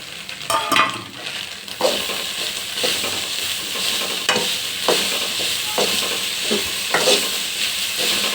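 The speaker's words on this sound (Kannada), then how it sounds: "ಇವಾಗ ಬೇಯಿಸಿಟ್ಕೊಂಡಿರೋಂಥ ಸೊಪ್ಪು ಹಾಕ್ತಾಯಿದ್ದೀನಿ" Cooked greens (soppu) tipped into a frying pan and stirred for an egg palya, steady close sizzling and frying with repeated scraping stir strokes throughout, no talk.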